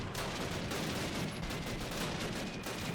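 Sustained machine gun fire in the 2003 video game Call of Duty, a continuous dense rattle of overlapping shots at moderate volume running throughout without pause.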